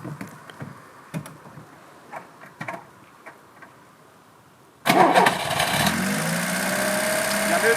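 Lada Niva engine catching after a restart: the first half holds quiet scattered ticks, then the engine fires loudly at about five seconds and settles into a steady, close, even idle with no talking.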